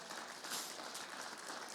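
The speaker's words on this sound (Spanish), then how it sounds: "Denle un aplauso al Señor" A church congregation applauds in a steady wash of clapping, faint and distant, continuing evenly for under two seconds.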